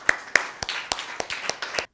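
Children of a parish group clap in a Catholic TV studio, a sparse run of about eight sharp, separate claps over two seconds, close and fairly loud with no voices.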